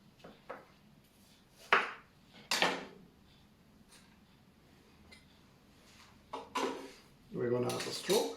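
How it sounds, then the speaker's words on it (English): A spoon stirs a Swedish cinnamon-apple cocktail in a glass, giving a few sharp clinks and scrapes spaced over several seconds in a quiet room, with a longer rattling burst at the end. "Okay, we're gonna stir."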